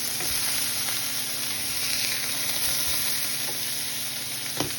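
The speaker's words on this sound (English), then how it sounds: "So I'm gonna flip these other two patties." Burger slider patties sizzle steadily in a hot pan, a dense close frying hiss with faint scrapes and taps as they are flipped, and no voices.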